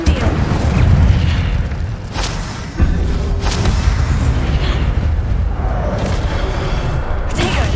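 An Incendio fire spell is cast during combat in the Hogwarts Legacy video game, with a dense rumbling whoosh and booming bursts of flame over a constant loud battle din, punctuated by sharp impacts.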